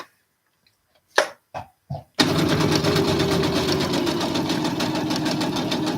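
A sewing machine stitches around a corner of a piece. A few separate clicks and knocks come first, then a steady, close, rapid mechanical whir runs continuously with no talking.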